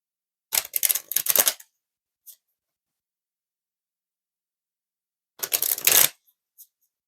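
Oracle cards are riffled and shuffled in two short, crisp bursts of papery flutter, each followed by a single soft tap as a card is drawn, with silence between.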